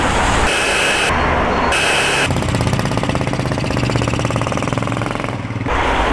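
A Royal Enfield Himalayan single-cylinder motorcycle engine runs steadily up close, a loud continuous mechanical thrum with rapid pulsing, briefly interrupted by abrupt breaks early on and a dip near the end.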